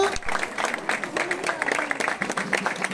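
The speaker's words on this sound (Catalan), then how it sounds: "Un fort aplaudiment pels gegants d'Olesa" A crowd applauds the giant festival figures of Olesa at the Santa Oliva 2021 floral offering, with dense, steady clapping heard under a voice speaking over a loudspeaker.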